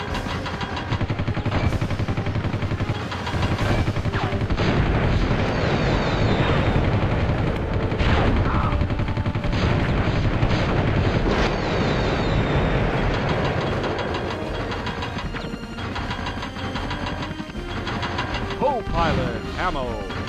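Helicopter gunfire in the video game Army Men Air Attack 2, dense and continuous with rapid bursts layered over a droning engine rumble and explosions, loud throughout.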